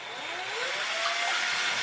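A steady high-pitched motor whine from an electric mixer mixing cake batter, rising slightly in pitch as it runs continuously with no talking.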